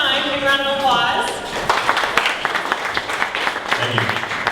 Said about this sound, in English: So everyone stand up one more time, big round of applause.